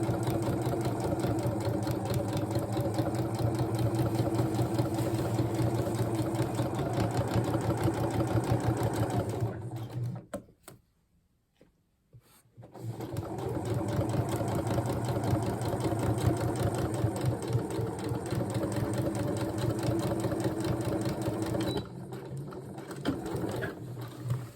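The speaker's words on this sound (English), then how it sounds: "Once I'm there, I'm going to do my back stitch." A sewing machine runs steadily, back stitching a coat seam with a fast, even mechanical chatter close by, pausing for about two seconds in the middle before resuming at the same pace.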